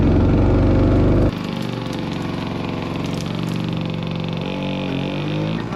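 A restored 1965 Gnat Mk1 vintage ATV engine with a leaky carburetor float bowl runs in first gear, loud and close: a heavy rumble drops after about a second into a steady, buzzing small-engine drone with a slight pitch rise near the end.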